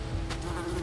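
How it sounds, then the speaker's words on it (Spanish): Mosquitoes in the video game Unravel make a brief, steady, high-pitched buzz, close and continuous over a dense ambient background with no talking. "Mosquitos son asquerosos, men."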